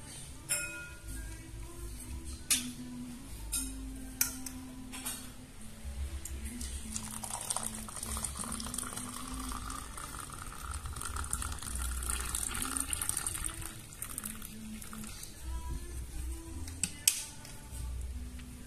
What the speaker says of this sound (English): And pour enough hot water.